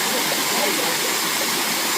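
Palakondalu waterfall in Kadapa roars as a steady, loud broadband rush of falling water close by, continuous and unbroken for the whole stretch with no voices over it.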